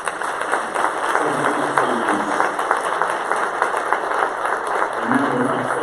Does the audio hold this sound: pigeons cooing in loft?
no